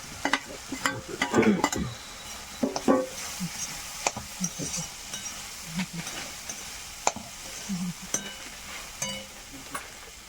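Torn pieces of bhakri flatbread roasted in a pan, with a steady soft sizzle under irregular scraping stir strokes from a spatula, close and moderately loud.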